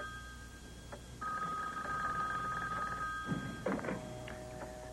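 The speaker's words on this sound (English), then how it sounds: "Their phone began to mysteriously ring." An old telephone bell rings indoors in a house, two bursts of steady metallic ringing with a brief gap, followed by a clunk and faint handling sounds.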